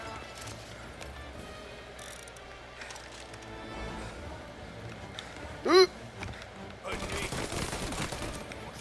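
Gunfire in the game Mafia: Definitive Edition, with scattered shots and mechanical clatter at moderate distance, a sharp loud burst near the middle and a denser volley toward the end, over faint background voices.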